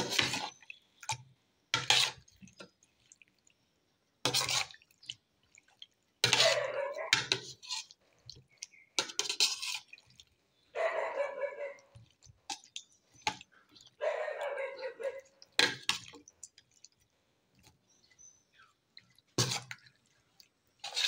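Kinilaw made from jellyfish is mixed by hand in a bowl, giving wet, squishy, dripping sounds in intermittent bursts separated by short silences, close and moderately loud.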